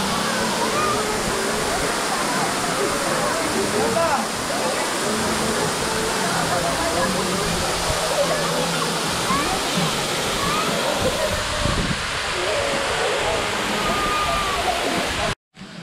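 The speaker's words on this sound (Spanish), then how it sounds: "Aquí es lo que podemos apreciar de esta cascada." A pumped-water waterfall in Calderón park pours in a steady, full rushing roar close by, continuous and dense, ending abruptly at the close.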